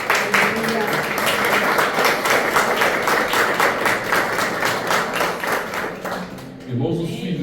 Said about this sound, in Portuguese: As palmas ao nosso Deus.